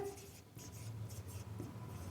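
A definition is written on a board in a chemistry lesson: quiet, scratchy marker or chalk strokes come in quick successive bursts, close by and faint.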